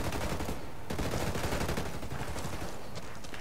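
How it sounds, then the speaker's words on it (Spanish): Gunfire crackles through a firefight between a military unit and rebels in the video game Ghost Recon Wildlands, with dense, continuous bursts of shots that sound like a loud, sustained exchange with no pauses. "Un tiroteo entre la unidad y los rebeldes"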